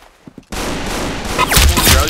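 Gunfire in the Arsenal video game: after a brief quiet moment with a few soft thumps, a loud, sustained barrage of rapid shots breaks out, with heavier bursts near the end and a voice mixed in.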